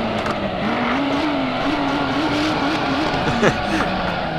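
A Lamborghini Miura P400SV spins out in the Assetto Corsa racing game: its engine holds a droning, wavering note while the tires squeal and scrub, with someone speaking over it.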